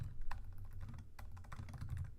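Fast, uneven typing on a computer keyboard while entering text for a Java program, close clicks and clacks in quick bursts with short pauses, no talking.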